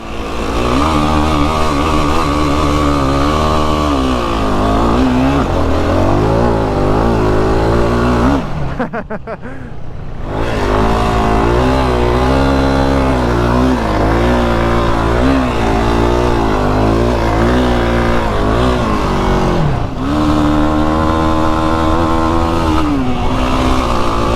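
Yamaha sport ATVs are ridden hard, their engines revving loud and close with rising and falling whine through gear changes; a brief dip cuts the noise midway before the revving resumes.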